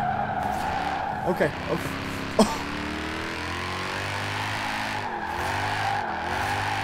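Tires squeal and skid as a Mercedes E63 S AWD drifts in the racing game Forza Horizon 4, with a sustained engine drone and wavering screech, while someone briefly speaks over it.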